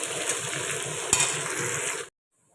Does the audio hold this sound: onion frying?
yes